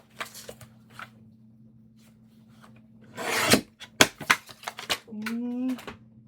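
Paper being trimmed for a handmade envelope folio, a scraping, rasping stretch followed by a sharp snap and shuffling paper rustles, with scattered handling taps before it.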